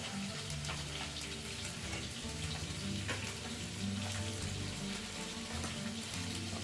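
Tomatoes and potatoes crackle and spit in hot oil in a pan, a soft continuous frying sizzle with faint stirring clicks.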